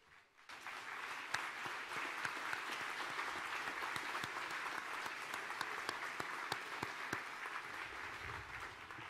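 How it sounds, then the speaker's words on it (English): Sustained applause from an audience at the Texas Rodeo Cowboy Hall of Fame ceremony, honoring past inductees as they stand; steady dense clapping with sharp individual claps, loud and continuous throughout. "let's give them a round of applause"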